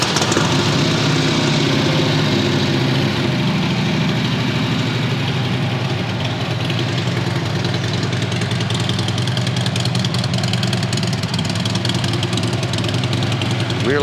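A 2014 Harley-Davidson Tri Glide three-wheeled motorcycle idles steadily at a Las Vegas dealership, its V-twin giving a loud, even, throbbing rumble close to the microphone for the whole stretch.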